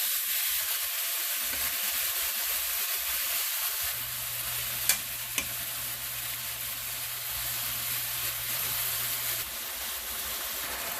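Beef browning in a hot pan for caldereta, a steady broad sizzle running close and unbroken, with a low hum joining partway and a couple of sharp clinks from a utensil.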